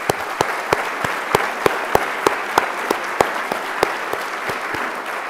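Steady audience applause for NHS care staff during an awards ceremony welcome address, an even wash of many hands with a few louder individual claps ringing out at a regular rhythm throughout.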